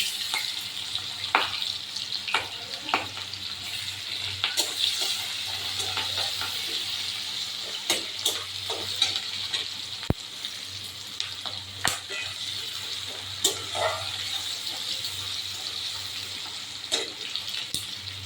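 Chopped onion and chilli sizzle steadily in hot oil with whole spices and dried chilli, the base for a katla fish and potato curry, with scattered clinks of stirring throughout.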